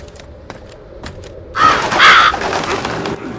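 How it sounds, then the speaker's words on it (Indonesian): A crow in the horror video game No Rest gives a loud, harsh caw that bursts out after faint scattered knocks and clicks, then fades into a quieter tail. "tiba-tiba ada burung gagak yang muncul"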